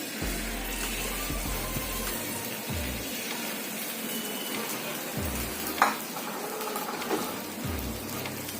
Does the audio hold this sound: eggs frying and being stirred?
yes